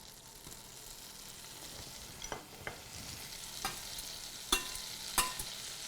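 Butter melting in a pan for garlic bread, a faint, low-level sizzle with a few sharp clicks and utensil taps that grow slightly louder toward the end.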